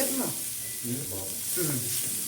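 Grated carrot and vegetables sauté in a pan with a soft, steady sizzle and occasional stirring scrapes, close up and moderately quiet.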